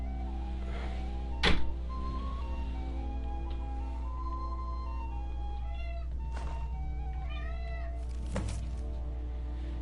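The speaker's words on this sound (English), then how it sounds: "My cat has decided to join us." A cat meows a few times, short and scattered, over a steady low hum, with a brief sharp thump near the start.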